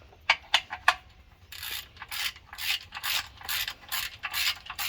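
A half-inch drive ratchet tightens the transmission drain plug on a 2018 Ram G56 six-speed manual transmission. A few sharp, close clicks come first, then a series of quick ratcheting bursts.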